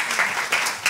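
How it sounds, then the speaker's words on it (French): Audience applause fills a short burst at a book talk on Jewish history, dense broadband clapping with slight surges, fairly near and steady with no voices. "Donc je vous laisse applaudir."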